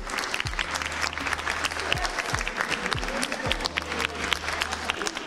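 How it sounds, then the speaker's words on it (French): Audience applause for cyclists at a citizens' day gathering at a château, a continuous patter of clapping with low thumps and faint crowd murmur underneath. "Pour ça je pense qu'on peut les applaudir."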